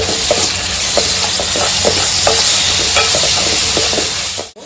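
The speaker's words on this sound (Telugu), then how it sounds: "ఒక 2 మినిట్స్ నీట్గా ఫ్రై చేసుకోవాలి." Ginger garlic paste frying in a pan on low flame, a continuous close sizzle with regular scraping stirs of a spoon, no talk, cutting off abruptly at the end.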